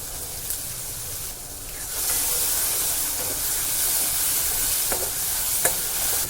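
A tomato and spice paste sautés in oil with a dense, hissing sizzle that swells partway through, and a few sharp scrapes and taps of a spoon against the pan stand out.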